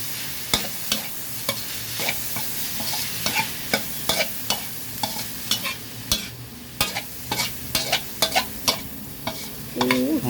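Chopped garlic being stir-fried in a pan for Thai minced pork with egg, with a steady sizzle under repeated sharp scrapes and clacks of a spatula against the pan, close and fairly loud throughout.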